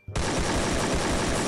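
AK rifle in the video game Free Fire firing a sustained, loud automatic burst that starts abruptly and runs continuously to the end without pause.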